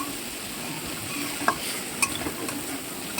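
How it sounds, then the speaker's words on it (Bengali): Prawns frying in a pan give a continuous soft sizzle, with a few sharp scrapes and clinks as they are stirred, close and steady, without talk. "এই যে ভালো করে ভেজে নিতে হবে চিংড়ি মাছগুলো"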